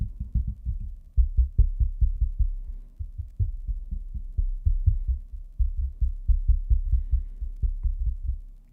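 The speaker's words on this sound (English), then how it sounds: "And now I'll move to tapping on the stand itself." Repeated low, dull knocks from tapping on a microphone stand, coming in quick bursts of several taps with brief gaps, fairly close and thumpy.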